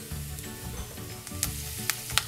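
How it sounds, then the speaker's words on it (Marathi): Peanuts fry in a little oil in a pan with a steady close sizzle, broken by a few sharp scrapes and clinks of a spoon stirring toward the end. "आपण शेंगदाणे तळून घेऊया"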